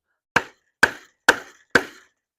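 Four evenly spaced, sharp metallic strikes of a hammer pounding on fence staples in a wooden post, each a crisp ringing impact with a short decay, alone and close.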